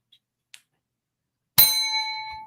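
A notification bell sound effect rings once, a bright single ding with a clear ringing tone that decays over about a second, preceded by two tiny faint clicks and otherwise silence.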